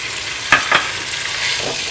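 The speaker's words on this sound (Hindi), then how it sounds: "घी मेल्ट हो गया है, इसमें हम खोआ डालेंगे।" Khoa dropped into melted desi ghee in a pan gives a soft, quiet sizzle, with two brief scraping stirs near the start and a steady low crackle underneath; no one speaks.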